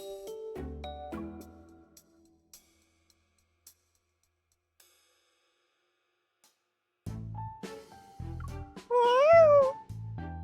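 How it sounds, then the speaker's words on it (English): A kitten meows once in a rising, wavering call near the end, after a long near-silent stretch, with a few low, muffled thuds and sounds around it. "That kitten is your new favorite, Mr. Sylus?"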